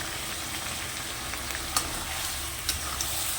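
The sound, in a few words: potatoes sautéing in a pan with ginger-garlic paste and spices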